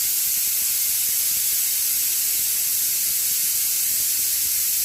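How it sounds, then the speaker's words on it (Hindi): A pressure cooker on a home stove lets out a loud, continuous high hiss of escaping steam, steady and unbroken from start to finish. "कुकर सीटी मार रहा है।"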